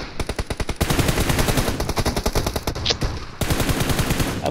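Gunfire in the video game BGMI, likely shotgun fire, heard as fast, dense rattling bursts of shots, loud and close, broken by brief pauses; no talk.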